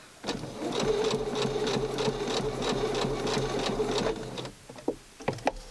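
A sewing machine stitches rapidly over fabric for doll clothes in a steady mechanical chatter lasting about four seconds, then stops, followed by a few faint clicks and handling sounds.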